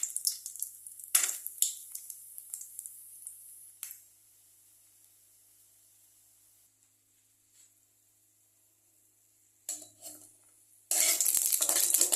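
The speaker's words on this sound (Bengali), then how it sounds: "প্রথমে আমি এই বড়িটাকে ভাজা করে নেব" Bori lentil dumplings frying in oil in a kadai, a faint hiss and sizzle with light stirring scrapes that fade out midway, then a louder burst of sizzling at the end.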